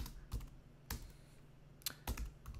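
Keys on a computer keyboard are struck in a quiet, uneven run of about five close, crisp taps, with faint room hiss between them and no voices.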